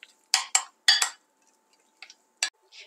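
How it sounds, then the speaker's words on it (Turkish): A utensil clinks sharply against a pan while garlic is stirred for cheese-stuffed eggplant rolls, with a handful of close, bright taps in small clusters and quiet gaps between them. "Karıştırmaya devam ediyorum."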